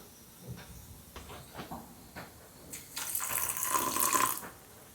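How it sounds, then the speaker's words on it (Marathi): Water runs from a tap into chutney being prepared, arriving as a hissing rush after a few light kitchen knocks and clatters, then stopping. "पाणी ॲड करूया"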